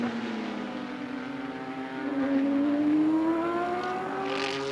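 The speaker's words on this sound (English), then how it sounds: "Unmistakable flat sound of that BMW's in onto pit lane" A BMW race car engine drones close by as it enters pit lane during qualifying at the Continental Tire Road Race Showcase. The steady harmonic note climbs gradually in pitch and grows louder partway through.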